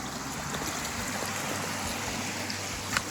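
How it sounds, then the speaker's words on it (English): A flooded river that has burst its banks, rushing beneath a bridge on a South Downs walk, heard as a steady broadband roar of flowing water, continuous and moderately loud, mixed with wind noise. "You can see how high this river is and where it's burst its banks over there"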